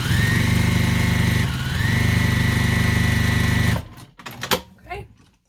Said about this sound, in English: Just sew along one of your long edges here.